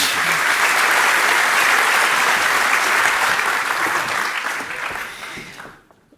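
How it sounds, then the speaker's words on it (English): Audience applause rings out at an academic year opening event as speakers leave the stage, a dense sustained clapping that holds steady for about five seconds before tapering off quickly into silence. "Let's give our speakers one final round of applause as they leave the stage"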